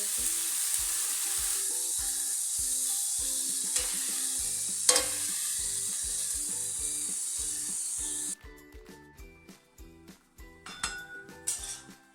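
Dill leaves for shepu bhaji stir-frying in a pan, with a steady hiss and rhythmic scraping and clinking of a spatula against the metal. The frying noise drops off partway through, leaving irregular stirring clatter.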